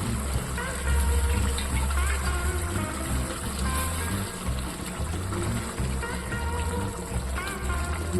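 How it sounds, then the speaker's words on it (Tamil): Running water pours steadily over raw chicken being washed in a home kitchen, a continuous near splashing gush with faint background hum. "சிக்கன் நல்லா கழுவி மஞ்சள் தூள் போட்டு நல்லா கழுவி வச்சுக்கலாம்."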